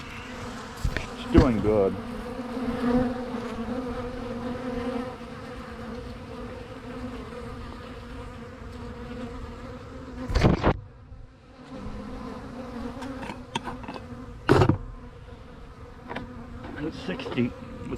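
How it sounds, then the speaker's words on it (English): Yellow jackets and hornets buzzing around an outdoor trap jar on a mild day, steady insect drone with a few louder passes close to the microphone, and a voice speaking briefly. "we still have a few hornets here, yellow jackets"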